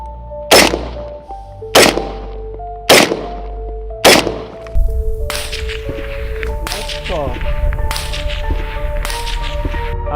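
Unsuppressed 5.56 rifle fired outdoors: four loud, sharp reports about a second apart, then a denser run of rapid shots with ringing echoes, and people talking faintly in the background.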